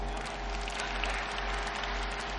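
Steady audience applause at a military honour and youth awareness ceremony with an all-India poetry gathering in Barabanki, a soft, even wash of clapping set against a constant low electrical hum.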